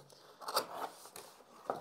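Cardboard box of a Rampage KB-R28 Blade Plus red-switch mechanical keyboard being opened, a few short scraping and rustling sounds with a sharper snap partway through, close and fairly quiet.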